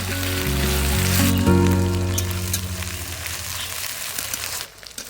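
Mutton spice paste with garlic fries loudly in a pan, a dense, steady crackling sizzle close up that eases off near the end, with no talk.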